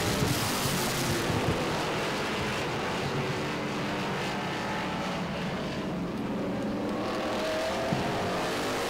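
Race cars lapping at Baer Field Motorsports Park during a Memorial Day weekend event, a dense, continuous roar of several engines blending together at a steady loud level, heard from trackside with no clear pauses.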